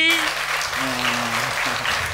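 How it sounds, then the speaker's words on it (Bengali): A studio audience at a televised dance competition bursts into applause, a dense, steady clatter of clapping with a voice sounding over it. "হাততালি।"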